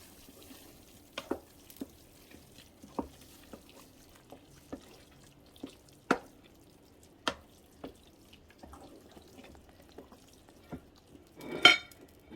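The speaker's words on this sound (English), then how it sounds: "So I'm going to give it a good stir again." Sparse clinks and taps of a utensil stirring spaghetti in a Ninja Foodi multicooker pot after air frying, about a dozen soft knocks at irregular intervals, with a brief scraping rustle near the end.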